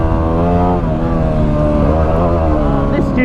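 Motorbike engine revving hard while riding through a forest bog hole: a loud, close, sustained droning rev with pitch rising and falling, no talk.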